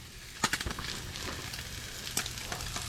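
Ham steak fries in a pan on a camping stove with a continuous soft sizzle and scattered sharp pops and crackles, close by and fairly quiet.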